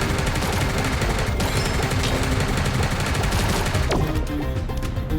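Rapid bursts of gunfire crackle continuously in the video game Sausage Man, with repeated sharp shots layered over a dense, noisy game background.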